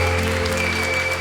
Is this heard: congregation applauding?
yes